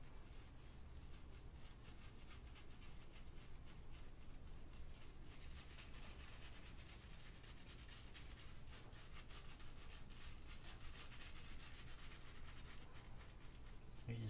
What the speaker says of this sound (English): you take your wet brush with the shaving cream on top, and then you just work in a nice lather